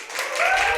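Audience applause at the start of an orientation lecture for a human geography teacher-exam prep course, a brief, fairly loud wash of clapping filling the short moment.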